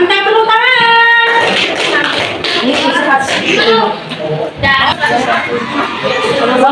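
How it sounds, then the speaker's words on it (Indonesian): A classroom of students applauds during a practice lesson, a dense burst of clapping mixed with chatter and laughter after a voice speaks, fairly close and loud. "Mantap, tepuk tangan."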